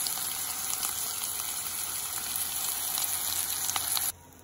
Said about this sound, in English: Allow this to stir fry for another 2 minutes.